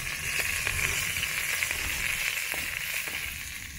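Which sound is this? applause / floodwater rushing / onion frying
onion frying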